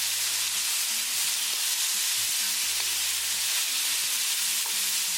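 Frozen mixed vegetables and onion sizzle loudly in a hot pan, a steady bright hiss with soft stirring scrapes beneath, close and continuous without any voices.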